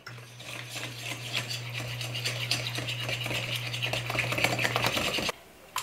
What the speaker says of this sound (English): you just want to cream your honey and your butter together